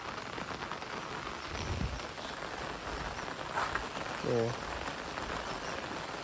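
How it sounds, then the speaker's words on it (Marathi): Heavy rain falling steadily outdoors near a stream bank, a continuous hiss of drops close by, with a brief voice heard faintly under it. "पावसाने जोर वाढवला, खतरनाक जोर वाढवला"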